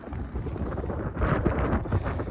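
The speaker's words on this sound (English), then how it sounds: "it's so windy here" Steady wind buffeting the microphone, a broad rumbling roar that swells louder midway through, with no voices.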